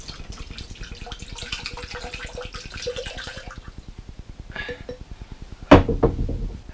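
Water poured from a container into a handmade carved wooden water bottle, a rapid rhythmic glugging stream close by that ends in a final splash, with no talking.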